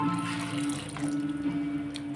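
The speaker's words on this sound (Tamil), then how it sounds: "குக்கரில் முக்கால் கப் அளவு தண்ணி சேர்த்து அலசின தண்ணியை வந்து இப்போ இதோட நான் சேர்த்துக்கிறேன்" Rinse water pours into a pressure cooker for a black urad dal kuzhambu, a close, steady splashing trickle with a faint metallic ring and no talk.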